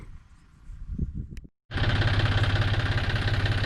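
Farm tractor engine during a solar water tank installation, first a quieter rumble, a brief cutout, then a loud steady idle with a fast rhythmic knocking pulse, close by.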